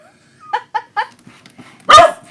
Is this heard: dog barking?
yes